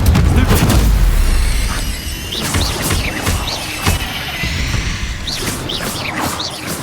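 A Confringo spell explosion in the video game Hogwarts Legacy: a loud, deep booming blast at the start that rumbles on, followed by further crackling impacts and debris, with no talk over it.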